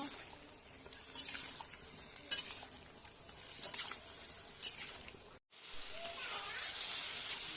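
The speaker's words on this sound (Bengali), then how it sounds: "লবণ দিয়ে ভালো করে চাল কুমড়োটা ভেজে নিব" Ash gourd frying in oil with turmeric and salt sizzles softly in a pan under repeated stirring and scraping, while a person talks over the cooking.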